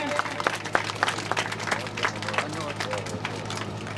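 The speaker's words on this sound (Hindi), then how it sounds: "आप सभी तालियों से स्वागत करें, तालियों से धन्यवाद करें।" Scattered clapping from an audience rises over a steady background hum and murmuring voices, lasting a few seconds.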